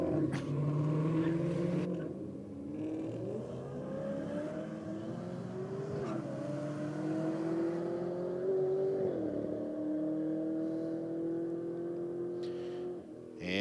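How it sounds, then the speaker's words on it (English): A Chevrolet Caprice drag car at a roll-race event sustains a loud engine drone with a rising tone that climbs in steps across several gear changes, steady and close throughout, with no talking. "Oh, purge of the nitrous there from the Caprice"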